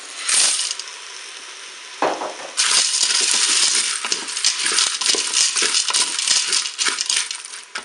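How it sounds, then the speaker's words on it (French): Carrot pieces and dry pasta drop into a Cookeo multicooker pot, with a short clatter at the start, another burst, then a long, continuous, close rattling pour of hard pasta against the metal bowl. "je vais ajouter mes morceaux de carottes. Je vais ajouter les pâtes."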